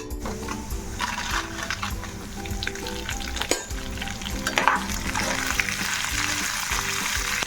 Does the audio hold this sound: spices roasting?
yes